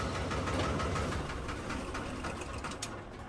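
Tractor engine idling nearby on a wheat field farm, a steady rattling, knocking diesel drone that holds even throughout with no speech.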